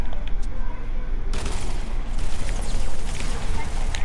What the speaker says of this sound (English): Whoa, why are you shooting me?